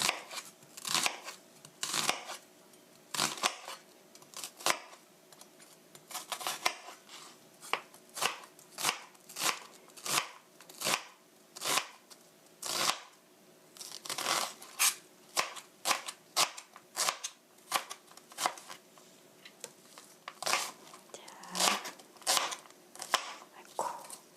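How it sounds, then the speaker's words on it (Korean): Two onions are sliced for onion cream soup with a knife on a cutting board, giving a long run of crisp, rapid chops in quick bursts with brief pauses, close and fairly loud, with no talking. "제 양파 두 개 다 썰었습니다"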